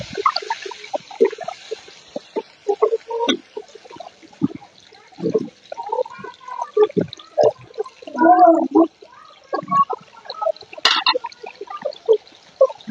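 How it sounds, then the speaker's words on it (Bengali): Water is poured into a pan of browned fried onions, giving gurgling, bubbling splashes and trickles in uneven bursts, close and fairly loud. "দিয়ে দিব পানি"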